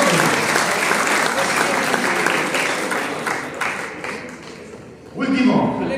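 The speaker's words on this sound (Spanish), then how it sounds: "un aplauso para ella" An audience claps in steady, dense applause at a public event, fairly loud and sustained for several seconds, then fading before a voice speaks over the last moment.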